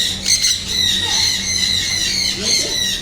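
A bird squawks repeatedly and sharply while being offered food, with people talking close by throughout.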